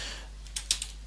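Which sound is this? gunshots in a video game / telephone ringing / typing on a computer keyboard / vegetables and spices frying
typing on a computer keyboard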